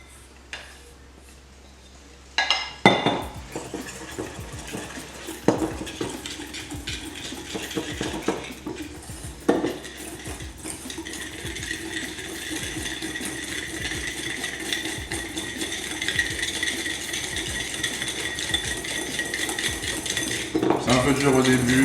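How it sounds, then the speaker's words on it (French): Custard powder, sugar and egg yolks are mixed in a bowl, with a few sharp utensil knocks at first, then a continuous fast scraping and clinking of a whisk against the bowl, growing busier toward the end; no one speaks. "je vais mélanger un peu ma poudre à crème avec le sucre"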